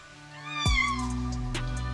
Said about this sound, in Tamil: பாரு, இங்கே இன்னொரு பூனை நிக்குது.